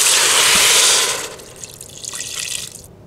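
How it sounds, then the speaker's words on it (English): Vegetable broth pours into a Cosori pressure cooker pot as a loud, steady liquid rush that tapers after about a second into softer trickling and dribbles, with no talking. "So we're gonna add in the vegetable broth"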